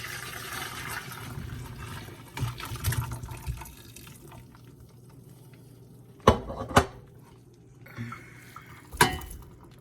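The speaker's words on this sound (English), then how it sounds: "we're gonna strain the water from the potatoes" Water from boiled potatoes strained out of a pot in a kitchen sink, a soft pouring splash early on, then several sharp clanks of the pot and a brief trickle, with no talking.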